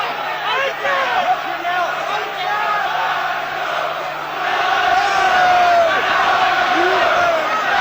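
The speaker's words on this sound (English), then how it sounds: "The crowd, once again, bring up the chants of Nigel." A boxing arena crowd roars and chants throughout a WBO world middleweight championship bout between Nigel Benn and Chris Eubank, a loud, sustained wall of voices swelling slightly toward the end, with a commentator talking over it.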